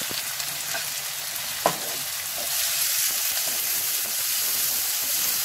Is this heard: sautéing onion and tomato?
yes